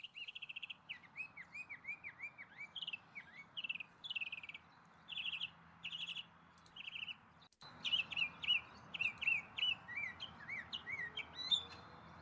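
A songbird mimics a car alarm with repeated loud, rising and falling whistled phrases in rhythmic bursts, near and clear, with a short break midway before the sequence resumes.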